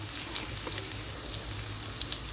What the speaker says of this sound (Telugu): నూనె అయితే వేడెక్కిందండి. మనకి ఆవాల జీలకర్ర వేసుకున్నాము.